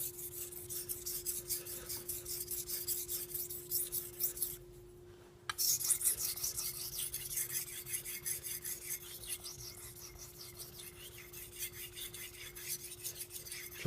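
A knife blade is drawn across a 4000 grit whetstone in repeated gritty rasping strokes, close and steady, with a brief pause midway before the scraping resumes.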